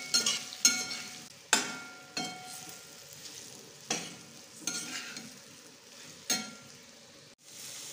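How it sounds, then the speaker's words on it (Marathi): Bitter gourd pieces tossed and stirred in a pan of hot tempering oil, with repeated scraping stirs at irregular intervals over a steady close sizzle and no talking. "कारले चांगले हलवून घ्यायचे."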